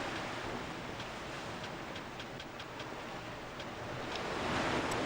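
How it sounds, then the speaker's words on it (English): Shallow water lapping and washing steadily in a Summoner 2 video game scene, a continuous soft surf-like wash at a constant level with no talk. "so here's the shallow water"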